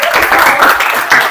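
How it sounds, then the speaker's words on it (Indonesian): A short burst of hand clapping comes from a group in a classroom lesson, a close, loud patter of claps over about a second with a voice faintly underneath. "Oke, tepuk tangan dulu."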